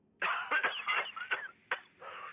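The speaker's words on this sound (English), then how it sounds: "Not with you coughing like that." A character in the video game The Division 2 coughing in a close, harsh fit of several rough bursts, broken by short gaps and ending in a softer, trailing cough.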